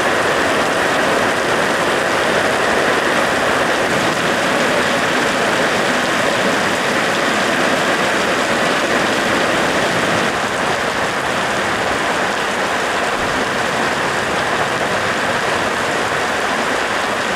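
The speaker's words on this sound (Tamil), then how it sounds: "மறுபடியும் மழை வருது." Heavy rain pours down in a steady, loud, dense hiss, drumming continuously on surfaces during a sudden downpour that brings flooding, with no pauses or voices.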